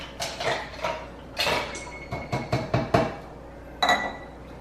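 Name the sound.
extra ice cubes dropped into brewed coffee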